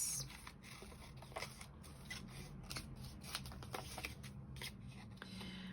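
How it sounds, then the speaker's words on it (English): Scissors trimming excess paper from a used envelope, quiet repeated snipping and rustling close by, faint and steady with little else around. "So let's trim off these excess bits."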